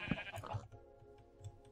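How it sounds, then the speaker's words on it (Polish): A sheep bleats in the Minecraft video game: a short bleat near the start, then quieter repeated game sounds, with talk faint or absent. "Patrzcie, ta owca, ona planuje od samego początku, żeby mnie zabić."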